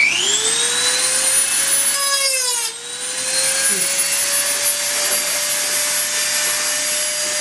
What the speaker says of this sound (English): we use a Dremel tool and a cutoff wheel